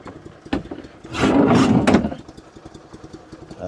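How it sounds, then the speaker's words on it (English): An Invacar engine runs with a loud burst of mechanical noise for about a second, then cuts out, leaving quiet clicks and faint background sounds. "Lights off and engine off."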